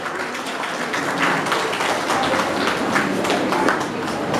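Audience applause at a school's Rabindra Jayanti and annual award ceremony as prizes are handed out: a steady, dense wash of many hands clapping throughout, moderately loud with no break.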